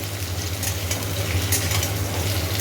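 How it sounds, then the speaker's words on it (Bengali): Potatoes fry steadily in a pan, a continuous crackling hiss with a low constant hum underneath, no talking. "আলুগুলো সব দিয়ে দিয়েছি এবার ভালো করে এটা ভাজা হবে"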